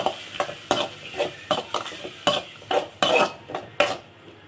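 Ground paste for a brinjal gravy sautéed in a pan, a steady run of about a dozen scraping, clinking spatula strokes over a low sizzle, close and fairly loud, no talking.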